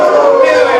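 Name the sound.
crowd imitating whale noises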